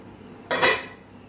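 One sharp metallic clank as the lid comes off a steamer of semolina and poha dhokla, a loud close clatter of pot and pan metal that rings briefly and fades within half a second.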